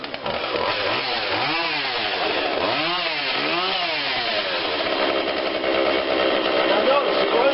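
A Husqvarna 142 40cc chainsaw runs on choke close by, its engine note rising and falling in repeated surges as it hunts on its own before settling into a steady loud drone.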